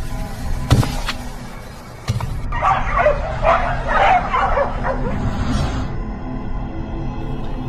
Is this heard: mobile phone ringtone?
no